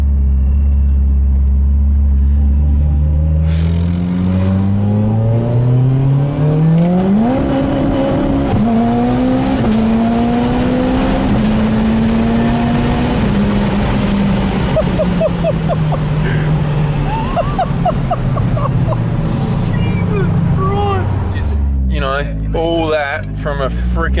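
Four-cylinder Mitsubishi Evo 10 street car engine revving hard and pulling through gears, loud and close, with rising tones and sharp shifts, people talking and exclaiming over it.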